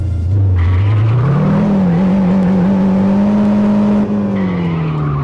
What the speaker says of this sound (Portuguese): Vamos acelerar agora no City Car Drive.